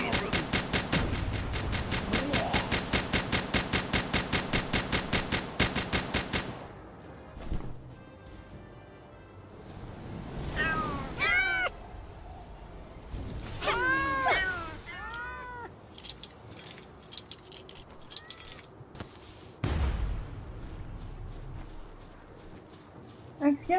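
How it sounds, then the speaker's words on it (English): Creatures in the Palworld game give repeated cat-like meows and yowls in short clusters, mixed with rapid clattering game effects at the start and scattered thuds, moderately loud amid other game sounds. "We're not slaughtering cats, but it certainly does sound like it"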